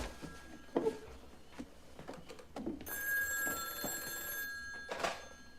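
Telephone ringing indoors with a bright electronic bell tone that starts partway through, sounding steadily for a couple of seconds and again briefly, amid scattered thumps and movement.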